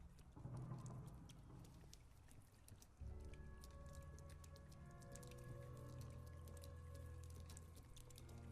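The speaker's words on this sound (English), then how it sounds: "so that's water, I think, actually" Water in the Whispering Willows game, a faint steady trickling and pouring wash with low hum and sustained tones in the background, quiet and continuous without speech.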